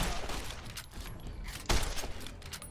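Gunfire in the video game Fallout New Vegas: a noisy crackle of shots with one louder burst near the middle, set against a busy game soundscape.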